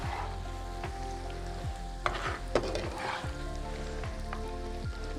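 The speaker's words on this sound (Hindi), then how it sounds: "यहाँ पे हमने अपनी चिकन फ्राई पे रख दिए।" Pieces of chicken fry in hot oil in a pan with a steady, even sizzle, joined by a couple of sharper pops and crackles near the middle. No one speaks.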